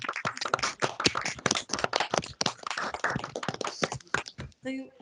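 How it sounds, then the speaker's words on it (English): A small conference audience gives a round of applause, sparse individual claps close by and uneven, fading out at the end as a voice begins. "Round of applause for you as well."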